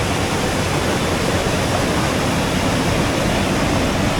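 Floodwater pouring violently through Fenghuang during a flood, a dense unbroken roar of rushing water, loud and close, with no voices over it.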